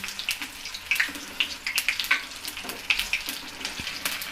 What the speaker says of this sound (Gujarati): આ ભજીયા બ્રાઉન રંગના થઈ ગયા છે, એકદમ તળાઈ ગયા છે